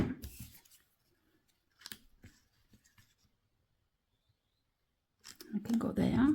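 Scissors snip through paper or fabric in a short run of crisp cuts, with a voice speaking before and after.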